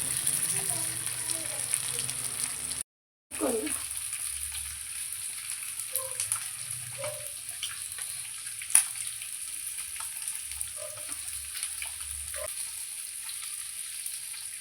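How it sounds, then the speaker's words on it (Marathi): Semolina-coated fish frying in oil gives a continuous, moderate sizzle. It breaks off briefly near the start, then goes on with scattered soft pops and one sharper tick, and a voice is faintly present at times. "तर आता ही दुसरी बाजू पण आपण व्यवस्थित त्याची फ्राय करून घेऊया"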